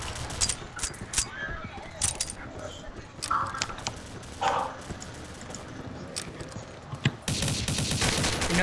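Gunfire in the Combat Arms video game comes as scattered sharp shots and short bursts at moderate loudness, with brief pauses between them and a denser louder burst near the end, alongside background game noise.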